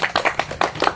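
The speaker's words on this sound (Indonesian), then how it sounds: "tepuk tangan untuk kelompok 3" Classroom audience claps for a student group after their presentation on livestock diseases, a quick run of close, sharp handclaps in an irregular rhythm, loud and brief.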